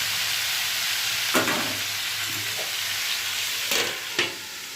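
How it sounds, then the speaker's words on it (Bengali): Radish and pumpkin curry with salt and turmeric being stirred in a pan: a steady close frying sizzle with a few sharp spoon scrapes and knocks against the pan. "নুন হলুদ দিয়ে নাড়াচাড়া করে ঢেকে দেবো"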